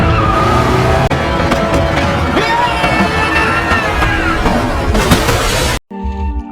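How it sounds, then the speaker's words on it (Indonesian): A car accelerates hard toward a road barrier, its engine roaring loudly with squealing tires for several seconds before the noise cuts off abruptly into near silence. "dengan cepat menginjak pedal gasnya dan dengan kencang menabrakkan mobil yang mereka tumpangi ke pembatas jalan"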